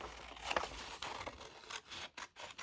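Scissors cut out paper for a junk journal, with close, quiet snips and scraping blade strokes in an uneven rhythm over a few seconds.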